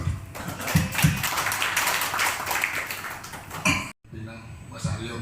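An audience claps for a guest speaker at a PT PELNI business briefing. Dense, steady applause runs for several seconds, mixed with voices in the room, then cuts off abruptly. A few scattered claps and talk follow.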